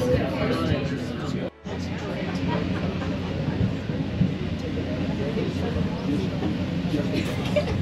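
The Pikes Peak cog railway train climbs the mountain with a continuous, heavy low rumble and rattle, steady throughout, with a brief dropout early on and faint voices mixed in.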